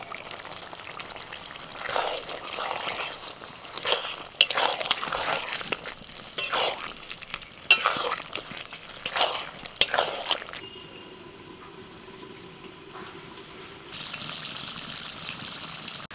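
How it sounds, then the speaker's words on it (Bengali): Country chicken sautés with chopped tomato in a pan, with repeated bursts of utensil scraping and stirring over a soft sizzle, followed by a quieter stretch of steady frying hiss near the end. "ঢাকা দিয়ে মাংসটা কষানো হচ্ছে"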